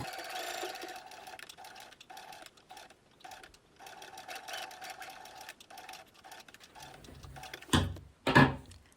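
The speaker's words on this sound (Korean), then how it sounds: "안감의 겉과 겉감의 겉이 마주보도록 겹쳐준 후 선을 따라 쭉 재봉해주세요." A sewing machine stitches a fabric camera pouch, lining and outer fabric layered face to face, in a steady run of rapid mechanical whirring with short pauses, ending in a couple of louder bursts at close range.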